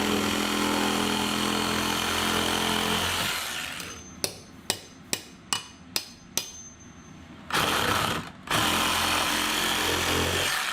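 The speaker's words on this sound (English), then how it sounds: "Roto hammer." A rotary hammer drills loudly and continuously up close, stops, fires a run of six sharp evenly spaced hits, then roars again in two short bursts, all during a crime scene cleanup in Naples, Florida.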